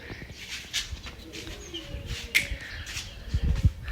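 Pigeons newly released at home coo and call softly in the open, with scattered faint chirps, light taps and background household noise around them.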